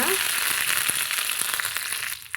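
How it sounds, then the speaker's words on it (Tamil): Curry leaves hit hot oil for tempering in a new appam pan, letting off a loud, bright, crackling sizzle with quick popping spatters up close that ease off slightly at the end. "இப்போ கொஞ்சமாக கருவேப்பிலையும் நம்ம சேர்த்துக்கலாங்க"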